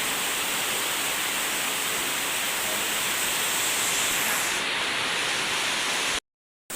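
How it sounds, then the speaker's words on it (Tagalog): Heavy rain pours down outside, a dense, even roar of falling water that holds steady and close before cutting off sharply near the end. "malakas yung ulan at saka tubig na po sa labas"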